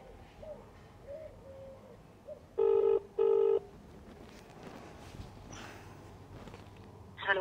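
A telephone rings for a call, giving two short loud electronic ring bursts back to back, with faint room noise and distant birds around them.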